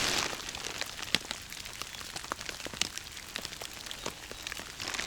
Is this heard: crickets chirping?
no